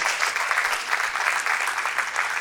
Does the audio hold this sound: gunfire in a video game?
no